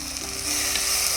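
Cumin seeds crackling and sizzling in hot oil for a tamarind-leaf chutney, a close, steady frying hiss with small popping crackles that swells slightly partway through.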